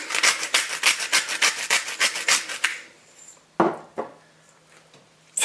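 Salt is ground into a sandwich sauce in a quick run of rhythmic, gritty grinding strokes. A few dull kitchen knocks follow, then near quiet.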